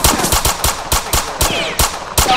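Rapid bursts of gunfire in a mobile video game, about ten loud, sharp, evenly spaced shots over two seconds, close and dry, no voices.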